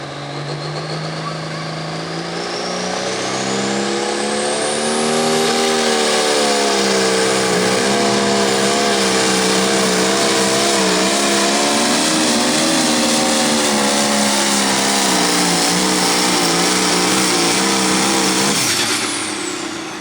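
International 1466 pulling tractor at an 8,500 lb Limited tractor pull in Paris, Missouri, its engine roaring loud and steady down the track with a rising, sustained howl that drops off near the end, no talk over it.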